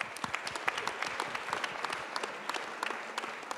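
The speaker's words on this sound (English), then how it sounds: "big round of applause for PlugSurfing" An audience at a tech innovation contest final applauds the winning startup, giving dense, even clapping at a fairly faint level that holds steady throughout with no talk over it.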